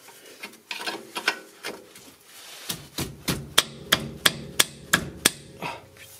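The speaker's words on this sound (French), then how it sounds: "ça a l'air assez compliqué à taper dessus avec un marteau" A hammer strikes the rusted rear shock absorber of a 2006 Mercedes C200, at first in scattered knocks, then in a run of sharp, evenly spaced metallic blows close by, with no talk.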